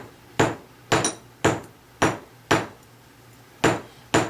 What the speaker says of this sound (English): And I'm actually hammering pretty hard